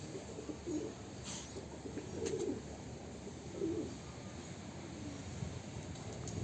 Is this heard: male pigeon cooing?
yes